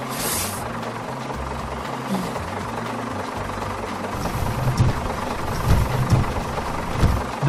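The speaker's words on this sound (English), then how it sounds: "This is a heavy rescue vehicle." A heavy rescue vehicle in a kids' vehicles app game idles with a continuous low engine rumble, growing slightly louder and rougher toward the end, with a short hiss at the start.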